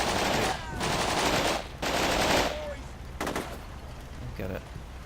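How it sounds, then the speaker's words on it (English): Sustained machine gun bursts in the war game Combat Mission: Shock Force 2, loud and near, firing in long rattling strings broken by brief pauses, with scattered return fire and some talk underneath. "I've got a pretty well set up machine gun there. Just annihilated that squad."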